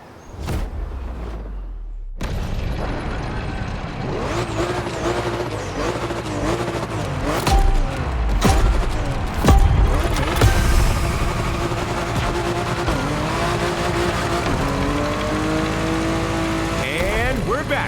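A W Motors Fenyr Supersport drives in The Crew Motorfest, its engine droning and revving with pitch shifts and a louder surge midway, under a voice talking throughout.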